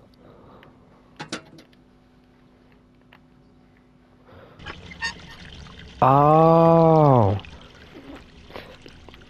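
Water gushes loudly from a turned valve in Hello Neighbor, a steady rushing pour lasting just over a second after quiet clanks and creaks, with a brief exclamation.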